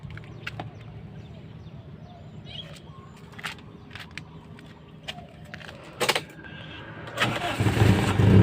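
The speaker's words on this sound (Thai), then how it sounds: "เครื่องติดแล้วนะครับ" A 1995 Toyota Corolla's original 1,300 cc 4E engine cranks and catches near the end, rumbling into a low idle after a stretch of quiet clicks and handling noises.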